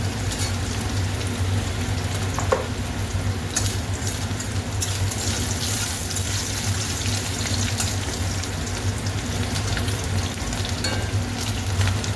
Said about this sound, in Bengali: আলুটা ভাজা হোক, বেগুনটা দিয়ে দিয়েছি, বেগুনটা ভেজে নিই।